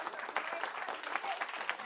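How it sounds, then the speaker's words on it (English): Audience applause honouring a man at a presentation, a short burst of moderately faint clapping from a group. "huge round of applause."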